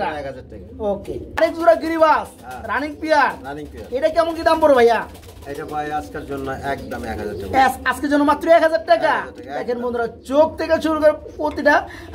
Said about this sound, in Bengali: এই পেয়ারটা হাই ফ্লাইং গিরিবাস রানিং পেয়ার